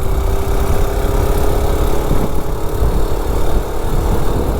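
A small gas mini bike engine running on a mix of race fuel and diesel idles steadily and loudly up close, a rough continuous putter with no gaps and no talking.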